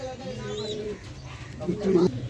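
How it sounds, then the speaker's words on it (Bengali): Old domestic flying pigeons in a home loft coo in low, throaty rolls, loud and close, while people talk over them. "সব পুরনো কিন্তু বাড়ির পায়রা, ধাড়ি পায়রা সব"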